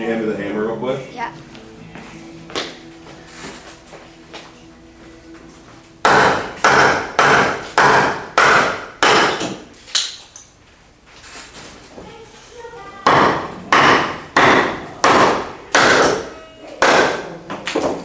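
Hammer strikes during gym demolition, heavy repeated blows in two fast bursts of about eight to ten hits each, loud and close, with a quiet pause between, some talk at the start.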